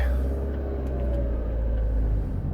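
Ford Fiesta Mk6 driving on a road, a steady low engine and road rumble with faint tonal whine, even and continuous from the cabin, no talk.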